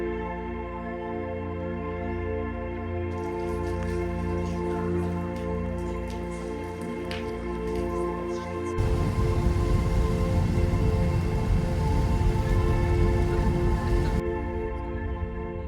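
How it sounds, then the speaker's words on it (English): Rain falls steadily in Sedona, Arizona, with a soft patter under a constant tonal hum, then grows into a louder, denser downpour for several seconds before easing off. "It's raining on and off"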